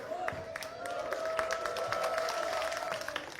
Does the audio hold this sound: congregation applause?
yes